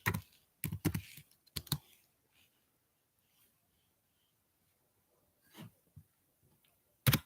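Fingers tap on a computer keyboard in clattery bursts, with several quick keystrokes early, a long quiet gap, then a few more taps. The sound is close, crisp and typewriter-like, and no one talks.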